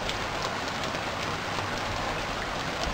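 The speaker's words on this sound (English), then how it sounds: "Oh, it's raining." Rain falling in the survival video game Stranded Deep, a steady, dense hiss of drops that runs unbroken through the whole moment.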